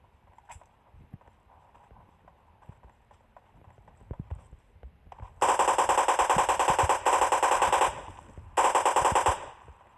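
Automatic gunfire in PUBG Mobile Lite rattles in two rapid bursts, the first longer and the second shorter after a brief pause, loud and close over quiet game ambience.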